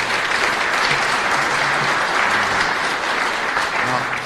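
Steady, dense applause from an audience at a sheriff's office recognition ceremony, continuous clapping filling the whole stretch at a consistent, fairly loud level.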